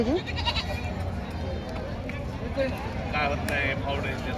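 Goats at the Parbhani goat market bleat in short, rising cries, one loudly at the start and fainter ones later, under a man's close, continuous talk and the background chatter of the market.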